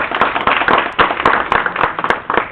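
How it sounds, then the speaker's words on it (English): Applause from an audience at a city council meeting, a steady burst of many hands clapping close by for a couple of seconds with no talking over it. "Give her an applause for that,"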